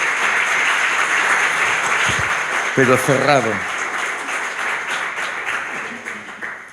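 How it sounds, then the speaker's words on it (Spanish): Audience applause at a theological lecture session, a sustained wash of clapping throughout, with someone speaking briefly over it partway. "Yo creo que merece un aplauso"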